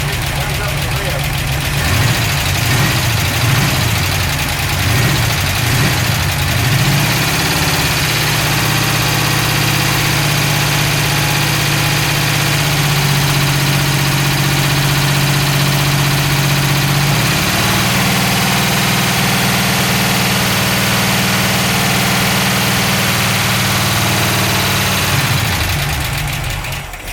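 A 1951 Ford engine idles steadily with noisy, ticking lifters, a continuous close rumble that shifts pitch partway through, with people talking over it.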